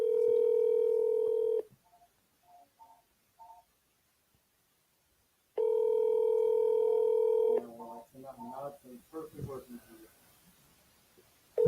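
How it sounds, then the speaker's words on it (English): A telephone ringback tone on a call to a fabric store, two long steady rings separated by a few seconds of near silence with faint tones, followed by people talking quietly. "Phone's ringing."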